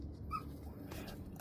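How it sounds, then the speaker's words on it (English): A small dog lets out a brief high whimper, soft and nearby, followed by quiet background noise with no talking. "It is my little dog."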